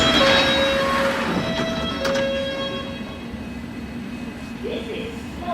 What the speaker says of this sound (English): This is a Moor Station Metropolitan Line train to Aldgate